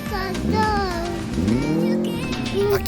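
A Honda CBR 1000 motorcycle engine swapped into a Polaris RZR side-by-side revs steadily and loud, with rising and falling whining tones after a carburetor adjustment for a richer fuel-air mix.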